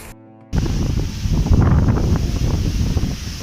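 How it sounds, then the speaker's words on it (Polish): Strong outdoor wind buffets the microphone, bursting in after a brief quiet moment and then roaring in a loud, continuous rumble with gusty swells. "Wiatr straszny, nie ustaje."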